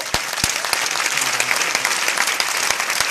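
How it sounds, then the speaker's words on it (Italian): Dense, continuous applause from a crowd at a political gathering, honoring European Parliament staff, steady and fairly loud throughout with individual sharp claps standing out. "anzi facciamo un applauso ai ragazzi del Parlamento Europeo"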